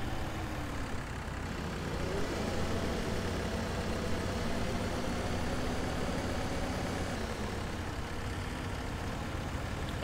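A tractor engine in the Farming Simulator 2017 video game drones steadily throughout, a constant low rumbling idle with a broad noisy hum, loud and unbroken with no talking.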